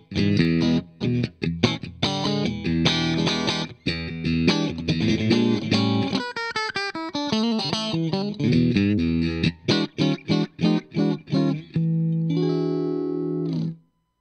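An electric guitar played through the AmpliTube 4 amp simulator with compression rings out in chords and melodic runs, loud and close with a smooth, sustained, effected tone and no voices.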